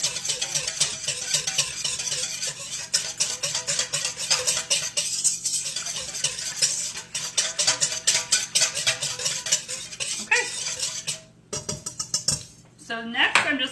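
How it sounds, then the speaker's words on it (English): A whisk beating flour into a mixture in a bowl, rapid continuous metallic scraping and clinking against the bowl, close and fairly loud, with a few heavier knocks near the end. "I'm just using my whisk to whisk all that together until it's blended"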